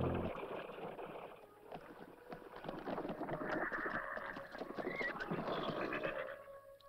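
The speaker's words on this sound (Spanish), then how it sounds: "Sujeta el caballo, Tom" A horse in a Western film clip-clops across the ground with steady hoofbeats and a short whinny, all under a wash of outdoor ambience.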